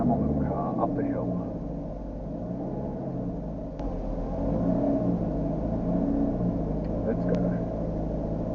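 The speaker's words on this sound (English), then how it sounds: "Come on, little car, up the hill." A small car engine drones and strains as it climbs a hill, a steady mid-pitched rumble with slight revving throughout, recorded from inside the vehicle.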